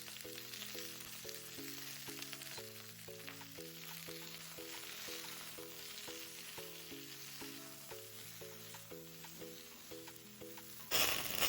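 Okra (lady finger) fries in a pan, giving a soft, steady sizzle under louder background music, with a sudden louder burst of noise at the very end.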